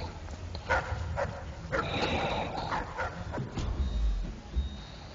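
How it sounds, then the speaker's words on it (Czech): A hyena-like creature in the game Dishonored barks and whimpers in short yelps, fairly close, with heavy low rumbling thuds underneath. "To není pes, to je hyena"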